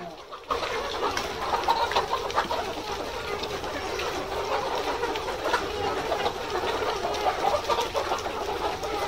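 Layer hens cluck in a dense, continuous chorus on a poultry farm. The flock sounds close and busy, with overlapping calls sustained throughout after a brief quieter start.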